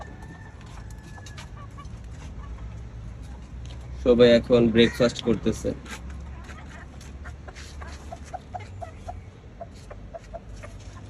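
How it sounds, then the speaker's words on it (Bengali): Chickens on a rooftop farm cluck in a quick burst of loud, close calls, followed by softer scattered clucks, while a person speaks over them. "এই যে আরো কিছু মুরগি আমাদের"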